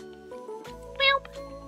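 A cat meows once in a Minecraft game, a short clear mew amid quiet game sounds.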